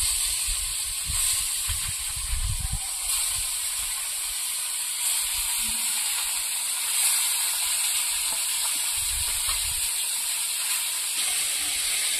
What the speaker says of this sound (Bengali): এবার বাকি মাছগুলোও ভেজে নেবো।